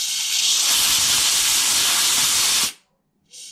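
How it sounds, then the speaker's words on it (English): An air compressor blows a loud, steady hiss through a Mountfield SP454 140cc petrol lawnmower carburettor jet for under three seconds, cuts off abruptly, then gives one short second burst. "What I like to do is just put my compressor to them like that."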